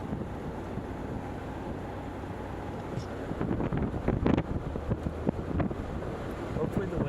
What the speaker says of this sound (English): Hopefully the wind's not too bad.